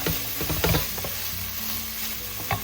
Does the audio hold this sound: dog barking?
no